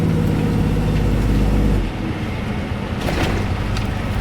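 Car driving along a road on the way out to a dairy farm, a steady engine drone and road rumble heard from close by, easing slightly midway, with no voices present.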